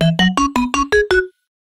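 A Quadra instrument-fuser synth layer doubles a piano melody, playing seven evenly spaced, bright plucked notes with sharp attacks. The last note rings out briefly before silence.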